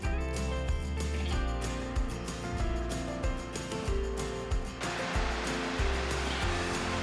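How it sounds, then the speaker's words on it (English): Rushing water from Nomizo Waterfall in Chiba, Japan, gives a steady broadband roar heard from fairly close, continuous throughout with no talking, shifting slightly in tone partway through. "We made a short visit to Nomizo Waterfall."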